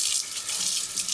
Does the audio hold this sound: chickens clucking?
no